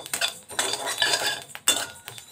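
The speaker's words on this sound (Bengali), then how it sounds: "মশলাটা আমার ভাজা হয়ে গেছে, আমি গ্যাসটা বন্ধ করে দিলাম। একটু ঠান্ডা হওয়া পর্যন্ত নেড়ে নিই।" A utensil scrapes and clinks against a pan as roasted spices for a tangy chilli pickle are stirred off the heat, in short uneven bursts of scraping with brief pauses.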